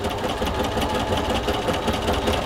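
A sewing machine running a steady zigzag stitch around a fabric appliqué, with a continuous, close, even mechanical whir and rapid needle chatter throughout, and no voices.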